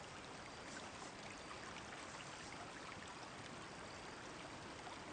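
Soft, steady splashing and trickling of water at night as someone swims, a faint continuous wash with no voices.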